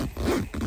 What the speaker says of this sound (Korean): 요런 지퍼의 부드러움이 사실 열고 닫을 때 약간의 뻑뻑함이 있습니다